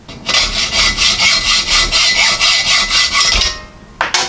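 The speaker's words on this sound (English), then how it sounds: "I'm just gonna take a hacksaw, I'm gonna zing these threads off here." Close, loud hacksaw strokes cutting threads off a steel bolt on a 1995 Ford F250 exhaust manifold, a fast even back-and-forth rasp for about three seconds, then a pause and a final short stroke.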